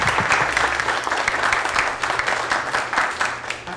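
Audience applause after a talk, dense steady clapping from a large crowd that runs loud throughout and fades slightly near the end, with no talking.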